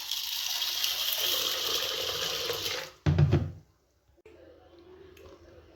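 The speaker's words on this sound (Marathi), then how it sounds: "2-3 पाण्याने छान धुवून घेऊ।" Water runs and gushes as soaked chana dal is washed in a pot, a steady pour followed by a short clattering splash, then quieter sloshing.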